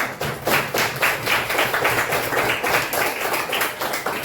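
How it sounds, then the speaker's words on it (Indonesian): Hands clap in quick, rhythmic bursts from a group in a third-grade math class, close and fairly loud, continuing steadily without pause. "tepuk tangan dong"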